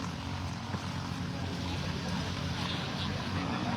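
Racing boat engine from a bangkarera boat race in San Nicolas, Batangas, a steady droning motor with a low rumbling hum and broad hiss, heard from a distance, constant and fairly faint.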